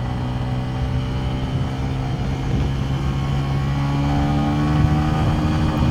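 TVS Ronin 225 motorcycle carrying a pillion passenger, accelerating in second gear, a steady engine drone that builds gradually louder over six seconds with rising harmonic tones, close and continuous, no talking.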